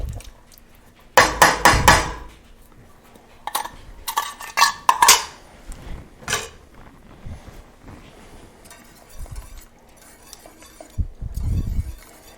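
Mushrooms going into a pot of tomato basil bisque: bursts of clattering metal and clinking utensils against the pot, some loud and close, separated by quieter stretches with a faint background hum.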